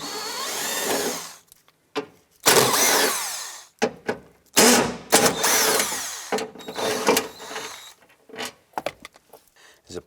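Power tool driving out door panel bolts on a 2002-07 Jeep Liberty, several loud close whirring bursts of a few seconds each, separated by short pauses and small clicks.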